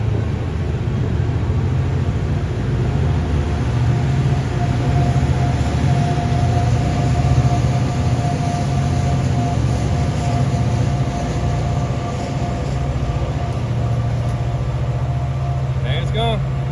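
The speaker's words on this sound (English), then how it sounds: "train going across." A train crosses in the distance while someone fishes from a kayak during a tournament, giving a steady low rumble throughout that stays constant with no clear approach or fade.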